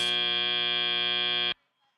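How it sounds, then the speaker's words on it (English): A loud, flat electronic buzzer sounds once for about a second and a half, then cuts off abruptly, marking the end of qualification matches at a FIRST Robotics Competition event in a large arena. "and the final buzzer of quals"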